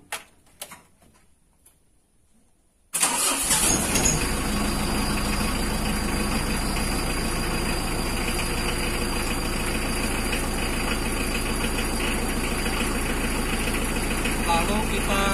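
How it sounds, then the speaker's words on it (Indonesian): A Mitsubishi L300 engine cranks and catches after a quiet opening, then settles into a loud, steady close idle with a faint ticking rhythm running through it. "lalu kita nyalakan mesinnya"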